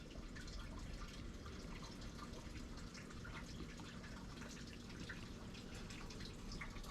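Steady rushing and splashing water flows continuously through grills at a koi pond shower filter, with small trickles and drips over a constant gurgling wash.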